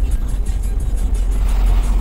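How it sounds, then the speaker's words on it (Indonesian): Hino trucks pass on the road, making a loud, continuous low rumble of heavy diesel engines and tyres with a slight pulsing rhythm, very close. "Banyak banget ya truk Hino yang arah dari Lubuk Linggau"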